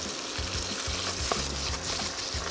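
Shrimp and garlic sauté in a hot pan, a steady close sizzle with scraping stirs as the pieces are kept moving.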